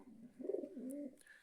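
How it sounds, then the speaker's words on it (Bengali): A newly acquired pair of pigeons coos in low, rolling phrases, two swelling calls close by with brief faint chirps near the end, no talk over them. "আর আমার এখানে কবুতর নতুন পেয়ারটা,"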